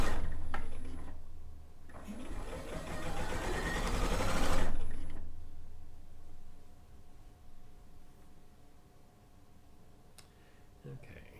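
A sewing machine stitches down quilt binding in one loud, dense burst of rapid needle clatter, preceded and followed by quieter mechanical ticking, with a voice talking at times.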